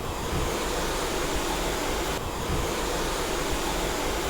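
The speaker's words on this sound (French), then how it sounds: "Je suis sur pré-lavage. Donc là, en fait, ça va m'envoyer de l'eau chaude. Basse pression." A motorcycle being sprayed at a car wash pre-wash station with low-pressure foam and hot water, a steady, broadband hiss of spray close by that runs unbroken throughout, with no talking.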